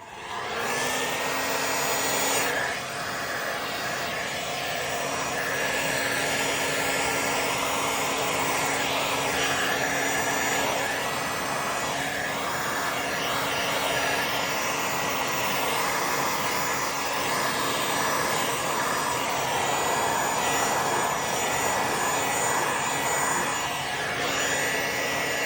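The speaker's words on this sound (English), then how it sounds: "I might actually just push it around a little bit again with a heat gun." A heat gun blows on resin in a continuous, loud, airy roar that holds steady throughout with only slight shifts in tone as it moves.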